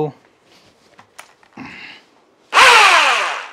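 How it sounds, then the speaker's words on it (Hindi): Quiet talk and handling noises give way to a loud, close power drill burst that spins up sharply and winds down over about a second while boring mounting holes for a homemade neon sign. "बट इनको ठोकने के लिए भाई अपने को करना पड़ेगी यहाँ पे ड्रिल"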